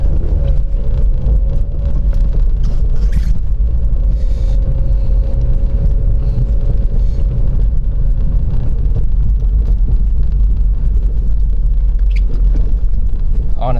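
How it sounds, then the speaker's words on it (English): A 2008 Mazda MX-5 GT NC, rear-wheel drive, pulling out of a snowy parking spot in a winter storm with traction control off: a steady loud engine drone and low rumble, pitch rising gently, heard from inside the car. "Traction control off. Have to spin our way out a little bit,"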